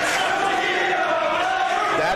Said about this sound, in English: you hear the crowd telling them just how they feel about them